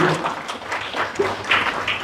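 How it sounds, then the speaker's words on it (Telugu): An audience at a Sai devotional gathering claps briefly, a short patter of applause mixed with a voice speaking. "చప్పట్లు కొట్టండి"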